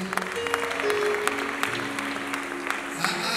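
Scattered applause from a wedding crowd welcoming the bride, with uneven, fairly close clapping going on throughout and a voice briefly audible underneath.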